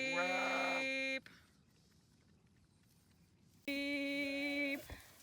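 Two loud, sustained bleats from sheep at lambing time, one at the start and another after a quiet pause, each held for over a second.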